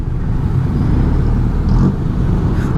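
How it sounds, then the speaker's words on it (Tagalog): Steady morning road traffic in Mabalacat near the Clark entrance, a dense low rumble of passing cars and motorcycles close by, with no voices. "Umagang traffic dito sa Mabalacat."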